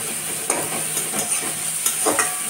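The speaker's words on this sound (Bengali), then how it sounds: "মশলাটা ভালো করে কষিয়ে নেব।" Spice paste of chopped garlic and ginger frying in oil in a pan, a steady close sizzle broken by several sharp scraping stirs at irregular intervals, with no voices.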